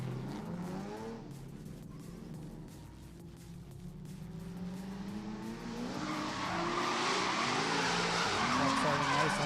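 Drift cars at a Great Plains drifting event, engines roaring and tires skidding and squealing in long sustained slides that build louder toward the end, with an announcer talking over the noise.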